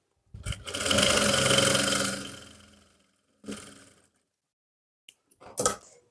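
A sewing machine stitches a trouser seat seam in one long continuous whirring run, then two shorter bursts with brief clicks between them, close and clear.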